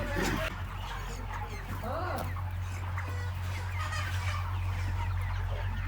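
Chickens clucking and squawking noisily at night as they are caught for loading, a crowded, continuous commotion over a steady low engine-like hum, with a voice talking over it.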